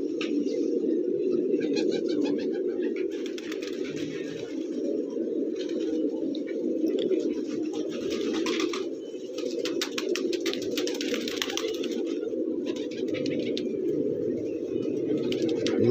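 Karbalai and Peshawari pigeons coo together in a loft, a dense, unbroken low burbling from a large flock that runs throughout, with scattered sharper chirps and wing rustles.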